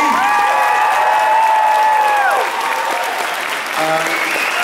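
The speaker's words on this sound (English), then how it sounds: "can we have a big round of applause, please, for Harrison Cricks, Bill Winans, Al McLean, and Christine Lee" At a convention closing ceremony, an audience applauds guests with a dense, steady wash of clapping and scattered cheers and voices, fading slightly toward the end.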